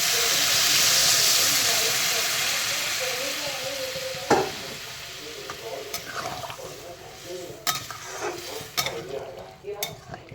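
Water poured into a sizzling soybean curry in a pan: a loud, broad hiss and steam burst at first that fades into softer bubbling, with spoon clinks and stirring scrapes following.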